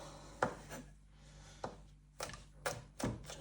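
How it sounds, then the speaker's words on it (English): A knife roughly chops mushrooms on a cutting board, giving about six crisp, close knocks at uneven intervals, with quiet pauses between them. "we're just going to give these a little rough chop"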